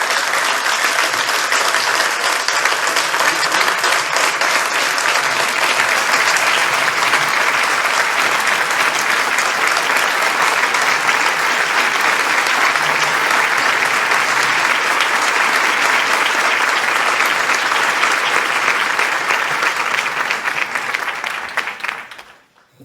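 Audience applause welcoming a poet on stage at a kavi sammelan, a dense, loud, continuous roar of many clapping hands lasting over twenty seconds before cutting off.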